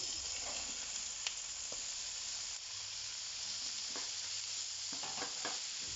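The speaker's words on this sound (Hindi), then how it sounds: "तुरई को अच्छे से स्टिर करते हुए 3 से 4 मिनट तक इसको अच्छे से पका लें" Chopped ridge gourd frying and being stirred into cooked masala in a pan, a steady sizzle with scraping stir strokes and a few utensil knocks, close and continuous.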